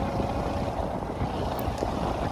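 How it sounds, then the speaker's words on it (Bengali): Wind sweeping across hilly terrain on a motorcycle trip toward Dim Pahar, a continuous low roar and buffeting against the microphone that stays steady and loud from start to finish. "কিন্তু বেশিরভাগই কিন্তু বাতাসের শব্দ"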